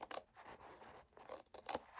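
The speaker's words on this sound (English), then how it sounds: "I'm going to go ahead and take my scissors and I'm going to trim this little pocket here just a little bit" Scissors trimming a small paper pocket on a tall wallpaper journal, heard as a few quiet, close snips and scrapes in a short rhythmic run.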